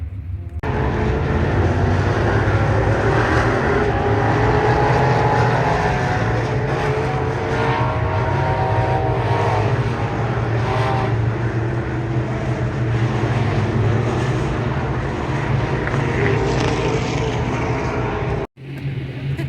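USRA B Mod dirt-track race car running hot laps at Fairmont, its engine a loud, steady roar held for most of the stretch before cutting off abruptly near the end.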